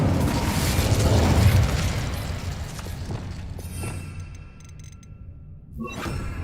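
Casting the Incendio fire spell in Hogwarts Legacy sets off a loud, rushing burst of flame with a heavy boom and crackling, which thins into fizzing sparkles and a small fresh flare at the end.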